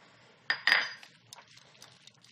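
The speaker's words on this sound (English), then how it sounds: "we can put peanuts into the salad" Peanuts tipped into a vegetable salad: a sharp clinking spill up close, followed by a scatter of faint small ticks and patters as the nuts settle.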